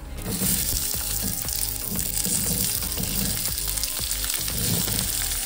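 Onions sizzling and frying in hot oil in a pan while kadamba thuvaiyal is being cooked, a dense continuous crackle with occasional stirring scrapes, close and steady throughout.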